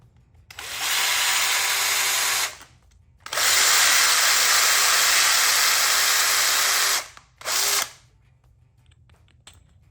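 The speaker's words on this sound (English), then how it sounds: "now we got to drill a hole and put a grommet" A power drill whirs in three bursts, two long and one short, drilling a hole in a 2021 Camaro SS 1LE, with a high, hissing drone and quiet pauses between.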